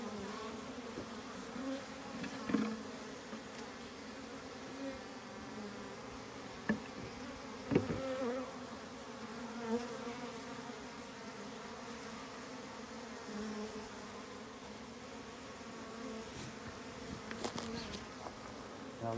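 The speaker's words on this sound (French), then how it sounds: "c'est la fête aux frelons quand ils voient des amas d'abeilles" A steady, fairly faint drone of bees buzzing around a small nucleus hive, with hornets drawn to the bee clusters, occasional louder passes close by, and no voices.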